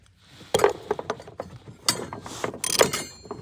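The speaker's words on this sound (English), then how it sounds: "get you a thin wall socket, 7/8 on a ratchet, stick it down in here" A ratchet turns a 7/8 thin wall socket on a Ford body mount bolt, giving a quick series of close, sharp metallic clicks in short bursts, with no talking.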